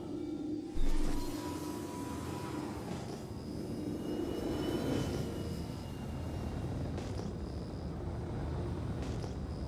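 A Corsair ship's engine in a space video game gives off a steady, droning aircraft-like roar with a whooshing swell near the start. The drone holds broad and constant for the rest of the stretch.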